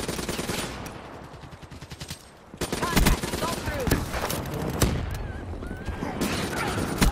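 Rapid automatic gunfire from a weapon on the Nuketown map of a shooter game, loud and close. Dense bursts run almost without pause, with a brief lull and then sustained firing, and game sounds mix in underneath.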